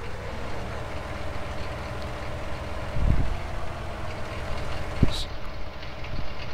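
A large new tractor engine idling in a field, a low, loud, steady rumble with a few faint knocks and clanks.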